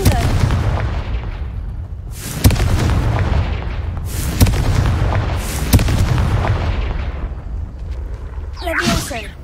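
Fire-blast spells from the Hogwarts Legacy video game go off as sharp booming explosions at roughly two-second intervals, each a loud crack followed by a rumbling tail, with a player's voice speaking between them.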